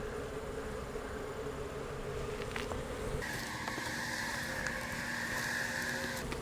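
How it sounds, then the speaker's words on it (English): Honey bees hum and buzz steadily around an opened hive during winter preparation, with a brood frame lifted out; a continuous close drone that grows denser partway through, with no talking. "So that's some of our winter bees."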